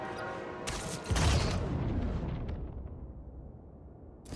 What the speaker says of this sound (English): Playing with fireworks?